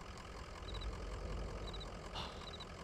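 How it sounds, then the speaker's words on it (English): A truck idling in the video game Kentucky Route Zero, a steady low engine rumble held at an even level throughout, with faint high chirping noises over it. "This truck idling over here"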